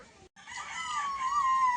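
A domestic household rooster crowing once, loud and close, a drawn-out call rising and then holding steady after a brief silent gap.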